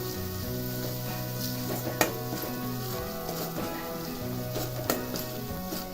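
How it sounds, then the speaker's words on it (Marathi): Dried fenugreek leaves (kasuri methi) crushed into hot oil sizzle steadily for a traditional Maharashtrian colocasia-leaf dish, a continuous close frying hiss with a couple of sharp stirring clinks, no voices. "त्यामध्ये मी कसुरी मेथी पण टाकणार आहे तेलामध्येच थोडीशी पिळून"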